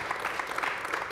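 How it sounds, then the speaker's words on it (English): An audience at a celebration event for Dodgers pitcher Fernando Valenzuela claps in a brief, fairly faint burst of applause with no voices heard. "kind of applause"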